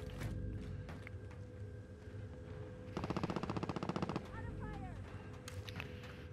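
Automatic gunfire in the shooter game Call of Duty: Modern Warfare, a rapid machine-gun burst of about a second lasting from roughly the middle of the clip, preceded and followed by scattered shots and background game noise.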